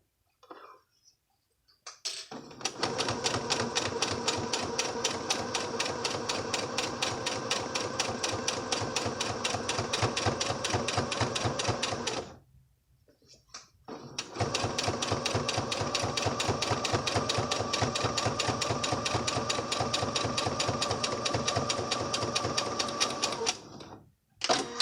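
A sewing machine runs close up while edge stitching near the fabric edge: two long stretches of fast, even mechanical stitching with a short pause between them.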